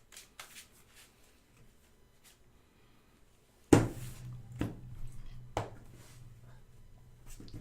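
A deck of Magic cards is shuffled at a game table: a few quiet rustles, then a sharp riffle followed by a couple more distinct shuffle bursts, near and fairly soft.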